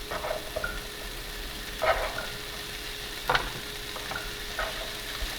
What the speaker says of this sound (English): In a lightly oiled pan, we're going to add the ginger,